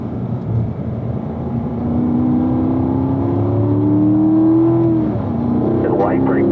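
Car accelerating gently on the Spring Mountain race track, engine tone rising steadily and sustained under continuous in-car coaching talk, with a slight shift near the end.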